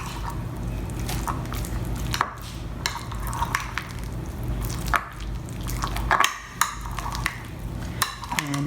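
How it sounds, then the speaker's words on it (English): Mayonnaise, Duke's brand, being stirred into a topping for a roasted and fresh tomato pie, wet squishing and sticky slaps in uneven strokes, close and fairly loud. "And we've got some mayo. And we're gonna just mix this up together."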